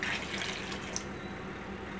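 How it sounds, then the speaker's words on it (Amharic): Lukewarm water streams into a bowl of flour and semolina to make dough, a soft continuous pouring trickle close by, fading slightly toward the end, with no talking. "ከዛ ደግሞ 3 ኩባያ በዚህ 3 ኩባያ ውሃ ታደርጉበታላችሁ።"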